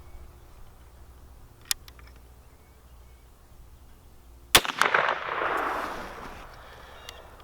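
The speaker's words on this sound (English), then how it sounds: "Okay, another shot. See how this one does." A single sharp rifle shot from a completed Crockett rifle kit cracks at an outdoor range, followed by a loud, spreading report and echo that fade over about two seconds, with a faint tick earlier.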